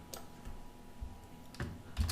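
Code being typed on a computer keyboard, a few sparse, separate key clicks and taps spread over a couple of seconds, close but fairly soft, with no voices.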